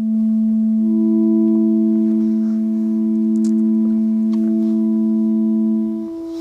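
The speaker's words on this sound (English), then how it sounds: "you can hear the 2 to 3 ratio produces a harmonious interval" Two steady pure sine tones a fifth apart, A and E in a 2:3 frequency ratio; the lower tone sounds first and the upper joins about a second later, both holding evenly together, clean and loud, with no talking.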